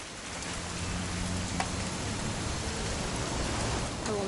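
Steady rain falls outside in a dense, even hiss with low rumble beneath, continuous and unbroken.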